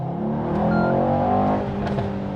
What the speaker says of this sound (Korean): 매니폴드 안에서 불규칙하게 터지는 소리 있어요